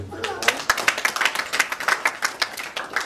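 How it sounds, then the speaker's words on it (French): A small audience at a political party gathering claps for an invited guest, a run of distinct, fairly quick claps close by, with a voice speaking under them. "j'aimerais que vous l'applaudissiez"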